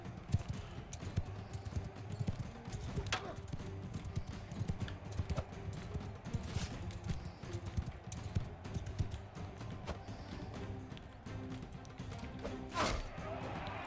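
Horse hooves clip-clop rapidly in a Mount & Blade 2 Bannerlord battle, a busy rhythmic galloping amid clashing combat noises, with someone talking over it.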